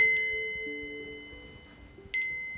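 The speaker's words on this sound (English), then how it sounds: "I have these wind chimes I want to put up on the pot hanger." Wind chimes meant for a kitchen pot hanger ring with bright, sustained metallic tones. One strike at the start fades slowly, and a second ring comes near the end. No other sound competes.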